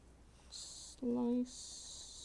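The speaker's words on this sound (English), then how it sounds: "I'm going to take these same scissors and just slice" Scissors slicing through paper for a scrapbook story kit page, two long smooth hissing cuts separated by a brief hummed vocal tone, quiet and close.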